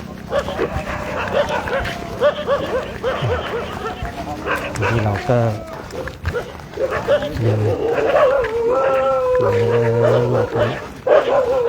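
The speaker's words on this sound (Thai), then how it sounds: "เห่าจังเลยนะเห่าจัง" Several dogs bark and yip repeatedly at a lodging during a pilgrimage in India and Nepal, loud and close with some whimpering, while people talk over them throughout.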